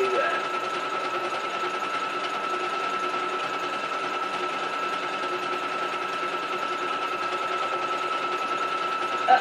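A sewing machine stitches steadily at close range, its motor giving a continuous even whirring drone with no break or pause from start to finish and no voices over it.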